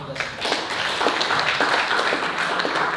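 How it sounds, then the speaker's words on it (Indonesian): An audience at an election commission outreach gathering claps steadily for a few seconds, a dense patter of hands in a room, with some voices mixed in. "Tepuk tangan buat kita semua."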